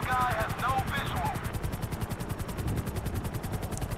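A helicopter in GTA5 with a Spiderman mod thrums steadily with a fast rotor chop as it comes in to land, loud and continuous, while a voice talks over the start.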